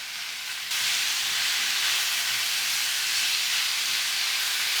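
Cubed pork hits a hot pan with softened onions for Filipino pork menudo, bursting into a loud, steady hiss and sizzle that jumps up suddenly and holds evenly for several seconds without talk.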